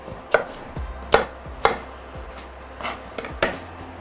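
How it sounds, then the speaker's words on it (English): A knife cuts through an apple on a cutting board with five or six sharp chops at uneven intervals, each a crisp knock with a short scrape, in a quiet kitchen with a low hum beneath. "while it's melting I'll just cut the rest of this apple"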